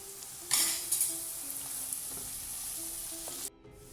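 Onions fry and caramelize in a pan with cardamom pods and a cinnamon stick, giving a steady close sizzle with a few brighter crackles and stirring scrapes, then a quieter hiss near the end, with no one talking.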